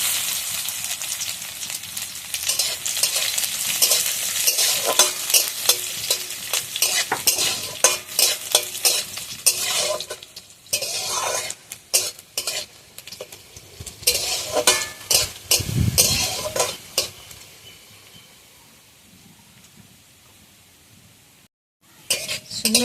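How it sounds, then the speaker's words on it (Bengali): Dried red chillies, nigella seeds and chopped garlic sizzle in hot oil in a pan while a spoon stirs and clinks against the metal. The frying runs continuously and close, crackling in bursts, with a brief quiet gap near the end. "শুকনো লঙ্কা, কালো জিরে আর রসুন ভালোভাবে ভেজে নিয়েছি।"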